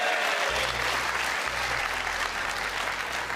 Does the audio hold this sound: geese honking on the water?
no